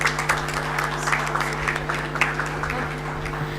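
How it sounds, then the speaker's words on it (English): Audience at a multi-disciplinary international conference clapping steadily, a dense, continuous round of applause from a hall full of people. "the claps must go on"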